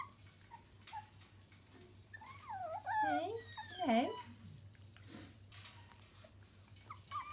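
A mother dog outside whimpers and whines to be let in while her puppies eat breakfast indoors. Her high, wavering whines rise and fall in the middle of the clip, faint and slightly distant, and a person says a word briefly.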